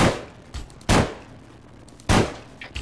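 Gunfire in a shooter video game comes as separate sharp, loud shots, three or four cracks spaced irregularly, each with a short echoing tail.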